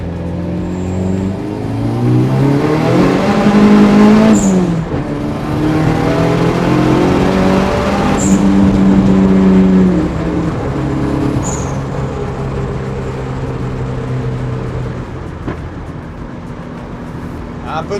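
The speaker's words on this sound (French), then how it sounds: "Là, on arrive à 3500 tours minute à peu près pour que ça parte au turbo." Nissan Silvia S13 with a turbocharged engine accelerating hard, revs rising and falling through several pulls with brief dips between gear changes, loud and close from inside the car.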